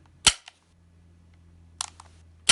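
Sharp mechanical clicks from a KWC or WE Tech Desert Eagle airsoft pistol slide being pulled back, a single snap followed later by a quick cluster of clicks, close and crisp.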